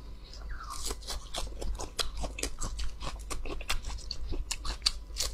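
Small, tender fresh lettuce of a new variety is crunched close to the mic in a steady run of crisp, loud bites and chews with no talking.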